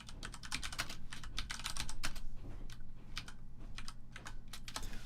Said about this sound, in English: let's go ahead and type this in.